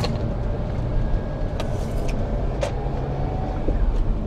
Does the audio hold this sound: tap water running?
no